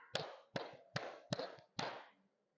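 Five hand claps from a teacher demonstrating a classroom ice-breaking clapping routine. They come at a steady, even rhythm, each snap trailing a short room echo, fairly soft and with no talking over them.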